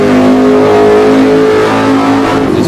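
A street stock race car on an oval track roars at sustained high revs, a loud, close, steady engine drone with a hum that rises and falls slightly, heard from on board with no speech.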